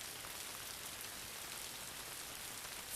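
Steady rain falls in a soft, even hiss of countless droplets, faint and continuous, with no voices.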